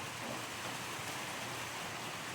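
Heavy rain and wind batter a hut as a steady, even hiss of rainfall, soft and continuous with no talk.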